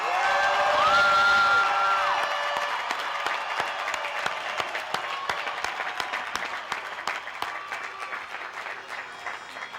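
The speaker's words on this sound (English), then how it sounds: "how about one more really loud round of applause for the 2011 graduates?" A large commencement crowd gives loud applause and cheering for the 2011 business administration graduates, with whoops and shouts rising early and then dense clapping tapering gradually across nearly ten seconds.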